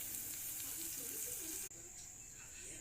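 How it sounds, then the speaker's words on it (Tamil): Tamarind water is poured into hot oil for a kuzhambu, giving a steady, loud sizzling hiss that runs without a break, dips sharply for an instant and then carries on slightly softer. "இப்போது நல்லா எண்ணெய் பிரிஞ்சு வந்துட்டு புளி கரைசலை ஊற்றிக்கலாம்."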